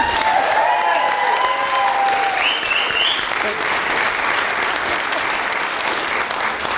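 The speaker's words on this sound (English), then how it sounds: "So give Rachel a big round of applause" A panel-show audience gives a contestant a loud, dense round of applause, with a sustained roar of clapping and brief whistles and cheers near the start, lasting several seconds.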